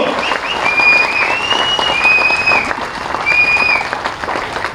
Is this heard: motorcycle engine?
no